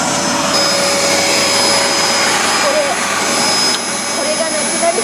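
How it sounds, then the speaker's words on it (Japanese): A vacuum cleaner runs steadily while a studio floor is cleaned, producing a loud, close, continuous whine and rushing drone that lasts throughout, with voices in the background. "掃除機をかけたいと思います。"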